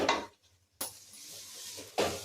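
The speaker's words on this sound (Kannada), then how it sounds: "ಇವಾಗ ನಾನು ಹೆಸರು ಬೇಳೆ ಹಾಕ್ತಿದ್ದೀನಿ ಅದೇ ಮೆಜರ್ಮೆಂಟಲ್ಲಿ" Split moong dal is tipped into a pot for barley khichdi, giving a quick rattling pour, a short quiet gap, then a sharper clatter and a further burst of scraping near the end.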